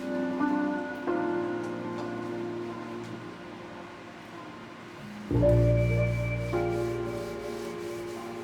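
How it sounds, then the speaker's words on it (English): Oak furniture being sanded by hand, a steady scratchy rubbing that runs continuously, growing louder and rougher after a brief pause partway through, with no talking. "With a lot of sanding all over"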